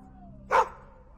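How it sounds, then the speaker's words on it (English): A single sharp dog bark, loud and close, rising once from a quiet outdoor background and fading quickly after it. "What are you barking at?"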